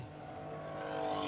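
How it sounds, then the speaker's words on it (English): Porsche and BMW E30 race cars run on a circuit at a classic race meeting, a faint engine drone building steadily as the cars approach over a brief stretch. "Here's those two Porsches we were talking about earlier. 3 Porsches, in fact. Little E30 BMW."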